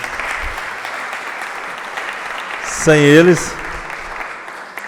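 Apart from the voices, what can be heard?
applause for law students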